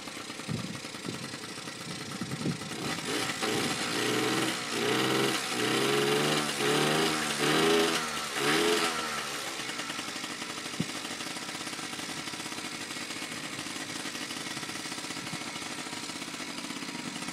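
A black Yamaha QT50 moped's small engine idles, then revs up and down several times in rising and falling surges before settling back to a steady idle, fairly close.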